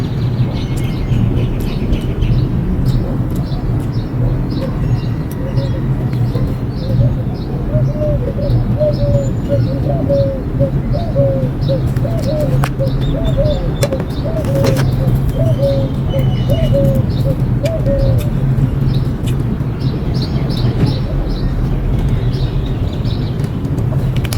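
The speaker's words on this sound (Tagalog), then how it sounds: "Sarap pakinggan ng mga ibon." Steady outdoor ambience with a run of small bird chirps and low cooing, birds fairly close, under a constant background hum.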